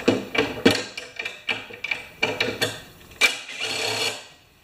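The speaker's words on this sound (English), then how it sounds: "So let's get this carburetor off of here." A carburetor being worked off a Briggs Quantum small engine: a run of close, uneven metallic clicks, scrapes and ratchet-like rasps from hand tools, ending in a longer grinding rub.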